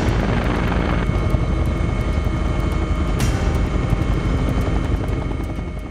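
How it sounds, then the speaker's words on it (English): AgustaWestland AW139 helicopter flying fast and low over the Wicklow Mountains in Ireland, its rotor and turbine roar loud, dense and continuous throughout with a steady rhythmic chop. "flying fast and low over the Wicklow Mountains, is an Augusta Westland 139"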